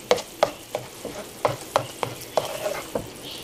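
Caramelizing sugar stirred in a pan, made ahead of adding pop rice, with sharp scraping strokes about every half second over a low, steady sizzle.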